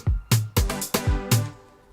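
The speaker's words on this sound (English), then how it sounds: "creating a pluck sound, like a groovy synth sound like this one" Punchy synth plucks bounce in a short, groovy rhythm, each note snapping in with a bright attack and quickly fading. About seven notes, loud and close.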